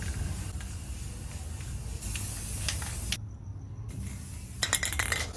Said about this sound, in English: So that's one can of spray paint.